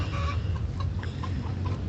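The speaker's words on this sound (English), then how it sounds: "These are chickens taking a dirt bath." Several chickens in a backyard flock taking a dirt bath, with scattered soft clucks over a steady low rumble; the sound is close and fairly continuous, with no talking.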